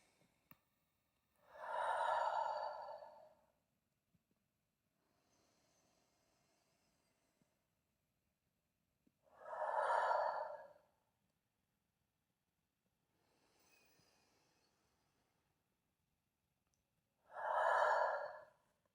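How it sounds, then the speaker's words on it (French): Three slow, deep breaths during a guided meditation, each drawn in through the nose and pushed out strongly through the mouth, close and clear with long pauses of near silence between them. "Prenez 3 grandes respirations par le nez en expirant fort par la bouche."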